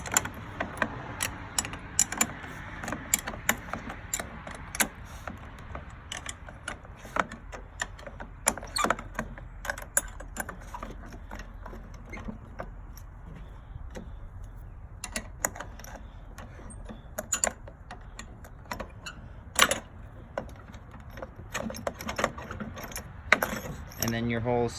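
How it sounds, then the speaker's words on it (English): A bolt being worked loose from the steering of a Craftsman riding tractor, a long run of small metallic clicks, ticks and rattles from a wrench and the parts, close up and fairly quiet. "so then you just got to take the bolt off."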